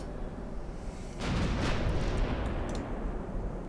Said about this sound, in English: 12-inch guns do not mess around